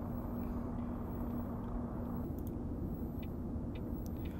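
A bus pulls up close beside a truck in the Truckers of Europe 3 driving game, its engine a steady low rumble with faint clicks and hisses on top and no talk.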